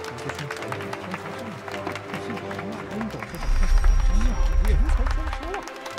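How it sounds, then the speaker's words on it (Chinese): Wedding guests clap and cheer as the bride makes her entrance at a wedding ceremony, applause swelling louder midway over music and an announcer's amplified voice. "让我们以热烈的掌声有请我们的新娘袁思雅闪亮"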